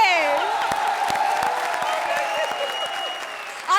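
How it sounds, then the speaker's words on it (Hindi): A studio audience at a Hindi TV comedy show applauds loudly and continuously, with steady clapping and light cheering filling the whole stretch. "A big applause for Rohit Shetty"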